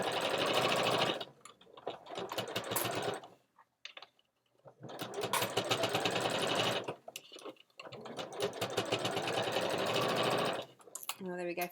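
Bursts of rapid mechanical stitching from a sewing machine work along an ironing board cover, three long runs broken by short pauses and a faint voice in the gaps.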